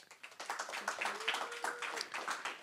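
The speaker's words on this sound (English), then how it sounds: "I want all of us to give a round of applause to Hillary." Faint scattered clapping from a small audience at a talk, uneven hand claps in a loose rhythm, quiet and somewhat distant.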